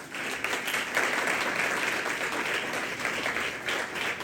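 An audience at a Christmas sermon in a church breaks into dense, sustained applause, many hands clapping at once in a loud, steady wash of sound.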